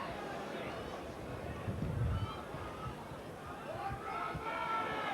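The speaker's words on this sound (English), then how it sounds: "you can hear the crowd below me" A rugby league crowd at a 1991 Leeds v Hull KR match makes a diffuse, distant murmur beneath continuous commentary.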